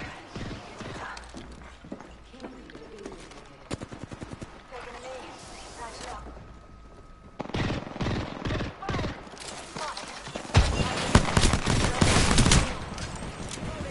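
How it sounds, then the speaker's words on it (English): Apex Legends gunfire rattles in fast bursts, sparse and moderate early, then growing louder and denser toward the end with heavy sustained volleys close by. "I am taking fire"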